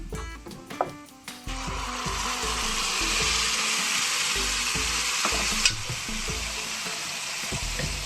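Shevla wild greens with roasted cumin hit a hot pan, setting off a loud, steady sizzle and frying hiss that fills the clip, with scattered stirring clatter and thuds underneath and no talking.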